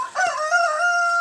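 A rooster crows once, loud and close, a long drawn-out call that holds its pitch to the end.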